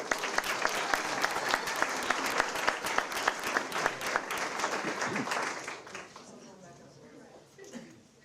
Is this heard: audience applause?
yes